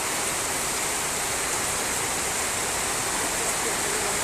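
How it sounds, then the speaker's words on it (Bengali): Steady, dense wash of rain noise, loud and unbroken throughout, like a heavy downpour with no distinct individual drops, falling on a street with standing water. "বেশ সজোরেই বৃষ্টি হচ্ছে রাস্তায় জল জমে গেছে"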